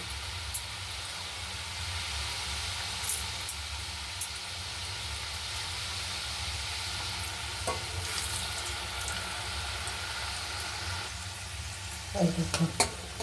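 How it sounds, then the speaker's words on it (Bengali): Besan finger stick pakoras sizzle and crackle steadily in hot oil, a constant hiss with a few clinks of a utensil near the end. "এই যে নিমকি এটা অন্য স্টাইলে ভাজছি"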